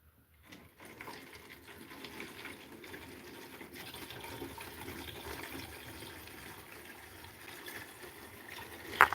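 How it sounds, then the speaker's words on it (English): Water jugs filling from a tap, a steady rushing stream of water running continuously into the containers at close range, with no one talking. "That's how we fill up our water jugs here."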